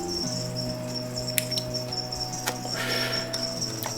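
Crickets chirp in the video game Framing Dawes: a steady, continuous high trill forms an unbroken ambient bed, with faint soft clicks and no talking.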